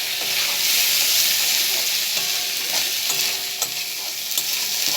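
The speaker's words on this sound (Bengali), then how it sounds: "আদা বাটাটা দিয়ে আবারও একটু নেড়ে চেড়ে গরম জলটা দিয়ে দেবো।" Potatoes frying in a pan with spices and ginger paste, a steady loud sizzle with scraping stirring strokes throughout, no talking.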